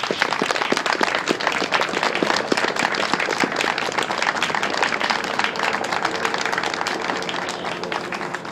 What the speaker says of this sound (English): please give a round of applause to Corporal Curtis